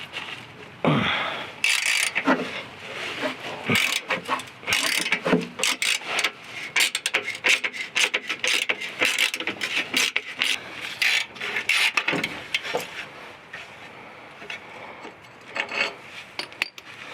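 Work on the intercooler bracket of a Ford 2.7L EcoBoost with a boost fault: close, loud, busy ratcheting and rasping of hand tools in rapid irregular bursts, continuing throughout.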